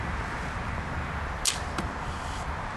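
Arrow loosed from a sling bow outdoors, a single sharp snap and whoosh followed moments later by a fainter second click or impact, over quiet background ambience.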